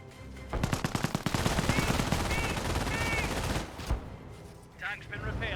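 Sustained machine gun fire from a slit trench in the Company of Heroes 1 strategy game, a dense rapid rattle of bursts lasting several seconds, then a lone shot and brief trailing battle noise.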